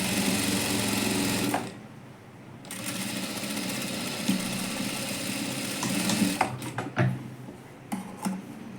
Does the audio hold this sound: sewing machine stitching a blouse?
yes